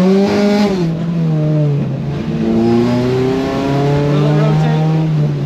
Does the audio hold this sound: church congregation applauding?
no